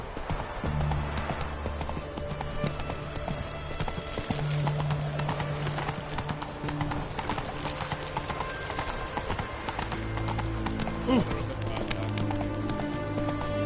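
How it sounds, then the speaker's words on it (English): Horse hooves clip-clopping in The Witcher 3 video game, a steady rhythmic trot of hoofbeats over game music and low droning ambience, with a brief voice near the end. "Whoa there, Roach"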